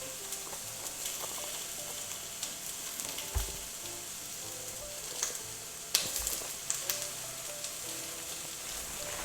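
Garlic frying in a pan, a steady close sizzle with occasional stirring clicks and scrapes, continuous and fairly quiet with no talking.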